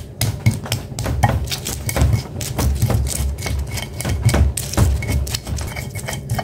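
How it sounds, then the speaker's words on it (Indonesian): Spice paste being ground and pounded with a stone mortar and pestle while cooking chicken rica-rica, a brisk series of close, sharp knocks and scraping rubs in an irregular rhythm, heard alone without talk. "Lanjut saya mau ulek bumbunya."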